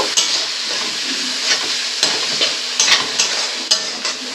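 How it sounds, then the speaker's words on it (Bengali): Spice paste with a couple of spoonfuls of sour yogurt, stir-fried for cauliflower kosha: a steady close sizzle broken by repeated scraping stirs of the spatula, with no voices. "মশলাটাকে আবারও ভালো করে কষিয়ে নেব"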